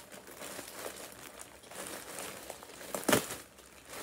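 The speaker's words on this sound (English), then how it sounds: "I'm just gonna rip it open." A package of milk cotton crochet yarn being torn open by hand, with soft crinkling of plastic throughout and one sharp, louder rip near the end.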